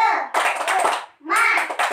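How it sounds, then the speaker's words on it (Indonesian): Schoolchildren in a second-grade classroom clap together in a rhythmic spirit clap, two loud bursts of hand claps with young voices mixed in. "Coba tepuk semangatnya. Tepuk semangat."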